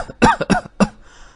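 A person coughs several times in a harsh, wet burst, three or four close loud hacks followed by a quieter wheezy breath.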